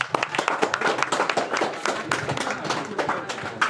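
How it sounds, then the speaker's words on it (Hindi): A school audience at a Republic Day celebration in Golden Valley School claps in a dense, steady burst to welcome a guest, with voices mixed in. "तो जोरदार तालियों से इनका स्वागत।"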